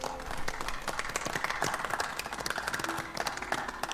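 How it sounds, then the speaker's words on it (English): Crowd applause inside Marvel's Spider-Man on PC, a steady wash of many hands clapping at a celebration for May, continuous and fairly loud, with faint murmuring mixed in. "Clap, clap, clap, clap."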